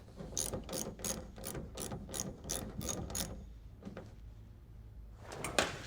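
A ratchet wrench bolts a cargo cover frame to a GMC Sierra truck bed with a quick run of about ten crisp, evenly spaced clicks. A pause follows, then a few more sharp clicks close by.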